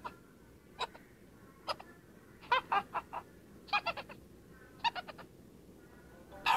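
A video game parrot imitates a witch with short cackling bursts in quick clusters of two to four, with pauses between, over a faint background hiss.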